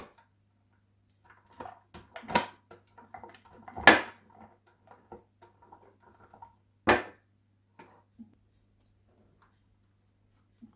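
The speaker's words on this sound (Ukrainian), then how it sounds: "потрем його на ось таку, на велику тертку" Cream cheese is rubbed across a large hand grater, giving sparse scraping strokes and a few sharp metallic knocks against the grater, close and otherwise quiet.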